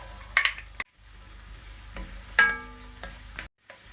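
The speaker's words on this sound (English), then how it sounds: "This new pan of mine is really given a nice even heat to get these onions softened up." Onions soften in a new pan over even heat, a low sizzle broken by a few sharp utensil clinks and scrapes against the metal, close by with brief silent gaps and no talking.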